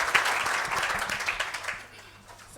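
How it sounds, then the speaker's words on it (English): Audience applause for the members of a post-SONA debate panel at a business school, sustained clapping that fades out near the end, with a few voices mixed in. "let's give our panel members a round of applause"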